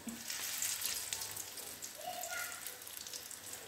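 Pieces of marinated white fish fry in hot oil in a non-stick pan, giving a steady, soft sizzle and crackle throughout with faint kitchen clinks.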